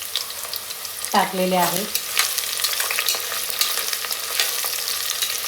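Two whole onions frying in oil with bay leaf and cloves for green chicken pulao, a steady close sizzle with a spoon scraping and stirring through it; a short voice speaks briefly near the start.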